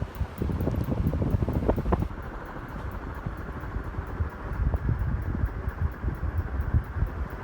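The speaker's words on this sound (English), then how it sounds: "Definitely a great industrial fan" A 2004 KDK industrial ceiling fan, model B56X5, running on speed 5, giving a steady rushing wind noise with gusty buffeting against the microphone and a faint repeating high tick, continuous throughout.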